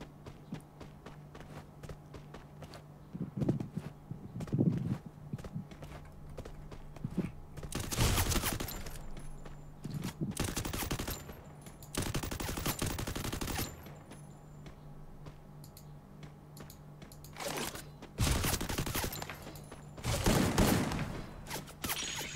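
Bursts of gunfire in the mobile battle royale game Free Fire ring out in several spaced volleys, separated by quieter stretches with footsteps and a steady background hum, and no one talks over them.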